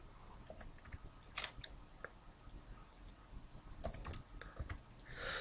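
Soft, sparse key taps on a computer keyboard while working in an Excel spreadsheet, quiet and close against a faint room hiss, with no voice.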